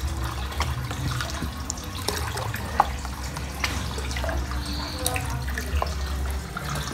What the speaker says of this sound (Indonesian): Oke, kurang lebih airnya sekian biar mengaduknya mudah